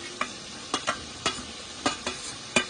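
Potatoes being stirred into chicken curry in a pan, a series of about seven distinct scraping strokes of the spoon over a soft sizzle, close and rhythmic, no voices.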